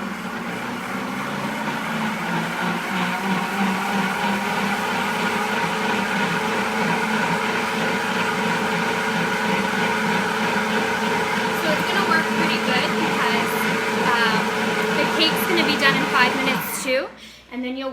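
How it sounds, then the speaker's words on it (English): A Deluxe Cooking Blender runs steadily as it blends oat milk, a loud continuous motor whir with shifting harmonic tones throughout, then stopping abruptly near the end. "It's going to take 5 minutes to blend up. And we are going to press start."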